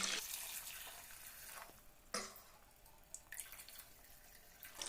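Water pours into a pot of river crab curry in a faint, uneven rushing splash that rises and falls over several seconds.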